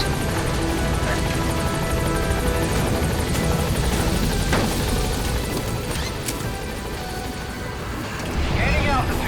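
A support helicopter lifting off in the video game Metal Gear Solid V, its steady loud rotor and engine roar filling the scene with a continuous wash of noise that swells slightly near the end.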